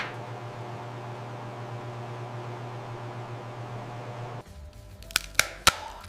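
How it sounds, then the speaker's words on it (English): Black jackfruit crisps snap in a few sharp, separate cracks after a quiet stretch of steady background hum from a factory setting. "Listen to that snap,"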